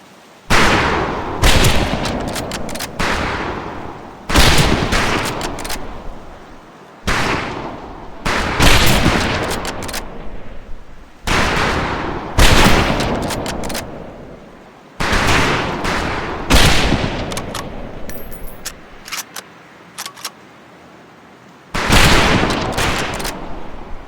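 Rifle volleys crack out across a firing range in Medal of Honor Pacific Assault, with loud repeated bursts of several near-simultaneous shots and short pauses between them, continuing over about twenty seconds.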